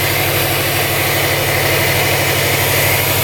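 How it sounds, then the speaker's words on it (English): A modified Subaru WRX idles steadily at close range, a loud constant engine drone with a whooshing condenser fan running under it. "Listen to that condenser fan."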